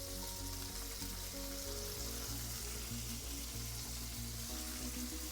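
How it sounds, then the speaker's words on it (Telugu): Chopped tomato frying in a pan with brinjal for a cucumber chutney: a steady, even sizzle and crackle that runs without a break, with no voices. "టమాటా ఫ్రై చేస్తాం"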